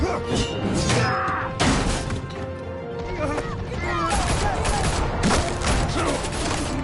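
Bursts of gunfire and crashing impacts in the Batman Telltale Series game, loud and dense, mixed with shouting voices and chaotic clatter throughout.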